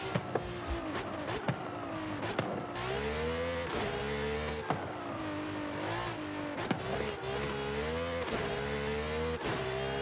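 A race car engine in Forza Horizon 5 revs and shifts repeatedly, rising and falling pitch sweeps with sharp gear-change breaks, loud and continuous with a few tire squeals, no talk.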